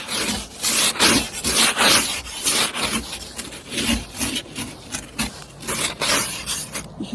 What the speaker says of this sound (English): walking on the ice is so scary